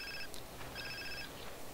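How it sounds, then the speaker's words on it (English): A telephone rings in Grand Theft Auto San Andreas, a steady electronic ring in repeated bursts, fairly loud over faint game background noise. "Phone call."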